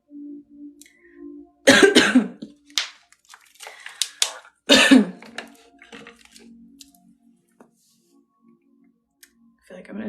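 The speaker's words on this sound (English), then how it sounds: "I think I needed to cough something up." A person coughs twice, two sharp, loud coughs a few seconds apart, with softer breathy throat noises and small clicks in between, close to the listener.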